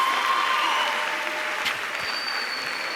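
Audience applause at a school play at the Bibliotheca Alexandrina, a soft spread of clapping that thins toward the end, with faint tones and murmurs in the hall.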